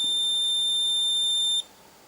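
A high-pitched electronic beep from an ignition timing tool on a Solex carburettor sounds continuously for about a second and a half, then cuts off abruptly, leaving quiet.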